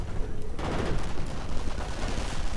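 Dense, continuous gunfire from a World War II strategy game as a Ritterkreuz unit fires into riflemen, with rapid overlapping shots forming a steady roar and a faint voice underneath.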